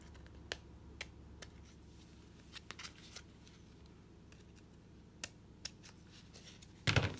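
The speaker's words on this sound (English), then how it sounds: "Let me trim off the lace." Scissors trimming lace for a Christmas craft, heard as sparse, sharp, close snips scattered over a quiet room background, with a louder rustle at the end.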